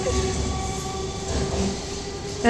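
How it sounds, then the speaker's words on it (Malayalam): A train rumbles steadily alongside a platform with a continuous low roar and faint metallic whine, ending in a brief louder clunk. "ഇവിടെ ഒരു ലോക്കൽ ട്രെയിൻ വന്നിട്ടുണ്ട്"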